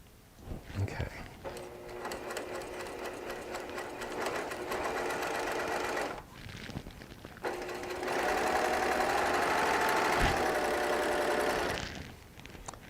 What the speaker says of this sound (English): Now we're stitching.